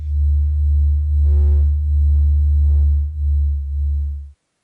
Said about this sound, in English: The sound of the sun does, to me, sound like the sun.